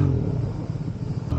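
A motorcycle fitted with a new aftermarket exhaust rumbles loudly nearby, a deep throaty drone that swells and dips slightly over a brief moment, heard on a ride through the Peak District in England.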